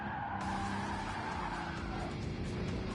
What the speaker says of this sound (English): Not often you get to drift a four-wheel drive car.